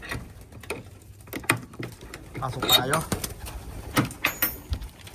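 Racing pigeons in a loft give soft coos mixed with scattered pattering and fluttering, close by, while someone talks over them.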